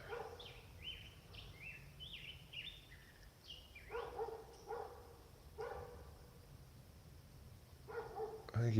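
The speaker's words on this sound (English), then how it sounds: "I think he barks when no one's home." A neighbour's dog barks outdoors in a few separate short bursts, moderately distant, with birds chirping earlier in the scene.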